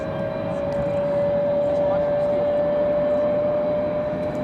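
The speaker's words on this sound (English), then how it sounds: "Here comes that Dreamliner." A Boeing Dreamliner airliner taxis at Raleigh-Durham airport, its engines giving a loud, steady roar with a constant whine held throughout, close by and unbroken.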